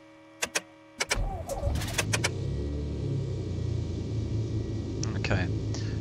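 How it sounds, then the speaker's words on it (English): A Piper Warrior engine starts in the X-Plane 11 flight simulator: a few sharp clicks, then the engine cranks and catches into a steady low rumble that continues, with someone talking over it. "so let's go ahead and start the engine"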